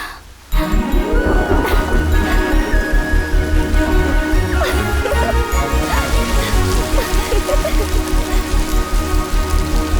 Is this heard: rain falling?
yes